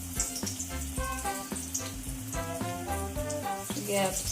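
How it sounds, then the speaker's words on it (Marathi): Bhakar vadi frying in hot oil over a low flame, a steady soft sizzle running throughout beneath a tonal voice or music in the foreground. "आता या सर्व अशा ब्राऊन कलरवर तळून घ्यायचे आपल्याला"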